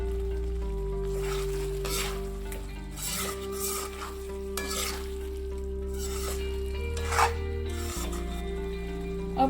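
Chicken khadai frying over a high flame with green chillies, ginger and fresh cream, a steady sizzle with stirring and occasional scraping of the pan throughout, close and fairly loud, no voices.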